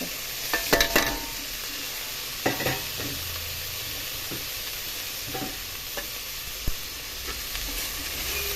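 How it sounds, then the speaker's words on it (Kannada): Tomato and curry leaves stir-frying in a pan for cluster bean pulao, a continuous close sizzle with occasional clinks and scrapes of stirring, no talking. "ಟೊಮೊಟೊ ಹಾಕಿ ಮಿಕ್ಸ್ ಮಾಡಿ ಈಗ ನಾನು ಕರಿಬೇವು ಹಾಕ್ತೀನಿ"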